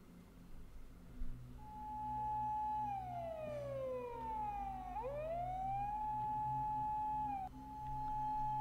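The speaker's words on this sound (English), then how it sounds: "I suddenly heard a brief blast from a siren." A police siren in the video game Chaos;Child gives a brief wailing blast, sweeping down and back up, over a steady low background rumble.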